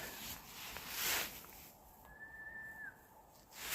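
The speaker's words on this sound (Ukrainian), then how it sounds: "Це, напевне, мені свистять уже." A person whistling outdoors in an autumn forest in Ireland: a single faint sustained whistled tone, held steady and then sliding down, in the distance against quiet woodland ambience with a brief rustle earlier.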